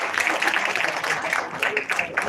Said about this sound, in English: So give them a please big round of applause